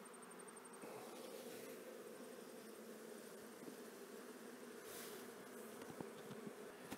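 In an autumn hive split, honey bees fill a hive box with a low, continuous buzz, faint but unbroken, with occasional light knocks and no voices.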